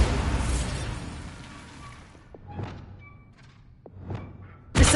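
Bombarda spell blast hitting a training dummy in Hogwarts Legacy: a loud booming impact that decays into a few softer thuds and whooshes, ending with a sudden sharp burst.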